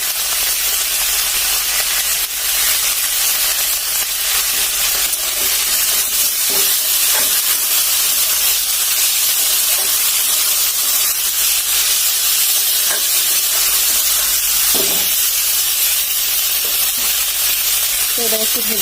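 Elephant foot yam stalks and pointed gourd fry in a pan with a continuous loud sizzle, broken by occasional scrapes and stirring knocks throughout.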